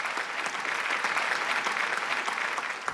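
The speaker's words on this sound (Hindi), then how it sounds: "जोरदार तालियां।" Studio audience at an Indian couples game show giving loud, sustained applause, a thick even roar of clapping with no break from start to finish.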